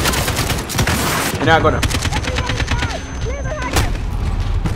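Rapid automatic gunfire in the Call of Duty Modern Warfare campaign, dense bursts of close, loud shots rattling almost nonstop, with someone talking over the shooting.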